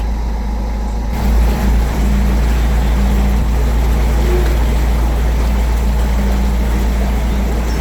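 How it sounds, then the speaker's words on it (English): A low, rumbling boat engine in a canal lock drones steadily and loudly, with a heavy low-end throb and a constant wash of background noise. "We think there's a boat coming up in the next lock"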